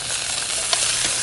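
Chicken coated in lavender breadcrumbs fries in a frying pan, giving a steady loud sizzle and crackle with brief spits, close up and without talk.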